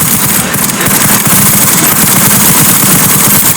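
Loud, unbroken automatic gunfire from the video game Resident Evil Requiem rattles on densely for several seconds without any speech.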